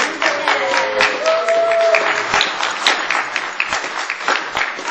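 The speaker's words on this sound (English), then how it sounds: "Everybody give a big applause to our mothers." A congregation applauds mothers at a Mother's Day celebration, with loud clapping close by, some voices calling out over it early on, and the sound thinning toward the end.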